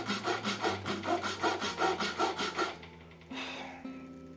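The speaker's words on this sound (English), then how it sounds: "I'll cut about 3/4 of the width of the hacksaw blade here" A hacksaw cuts a self nock into a wooden bow, about a dozen quick rhythmic rasping strokes close up, then stopping, followed by a few faint handling knocks.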